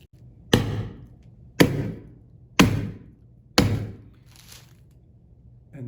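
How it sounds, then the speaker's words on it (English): Four sharp, evenly spaced hammer blows crunch down on tomatoes frozen in liquid nitrogen inside a bag, shattering like glass, each impact ringing out briefly before the next. "And hit them with a hammer."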